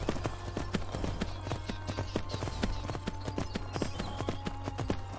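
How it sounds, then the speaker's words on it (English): Horse hooves clip-clop in a steady, rapid rhythm in Skyrim, close and clear over a low constant hum, with no talking. "there's just another random horse up here"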